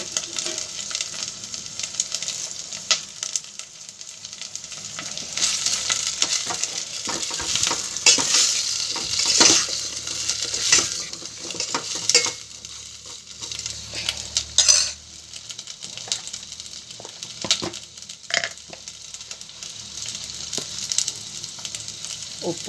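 Drumstick pieces fry in oil in a pan. A steady, close sizzle runs throughout, broken by frequent scraping and clinking of a spatula stirring against the metal pan. There are no voices.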